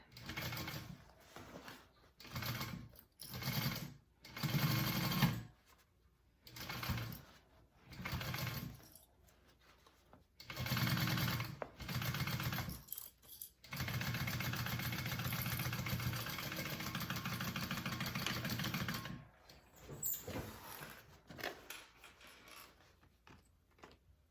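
A sewing machine stitches the lining of a handmade bag in repeated short bursts of whirring, then one longer steady run before more brief stitching spurts, close and clear with no talking.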